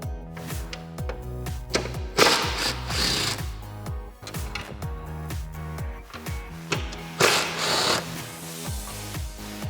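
Bolts come off a Jeep Wrangler JK during a CB antenna mount install, with a power tool's rapid ratcheting bursts starting and stopping several times, close and loud, with no talk.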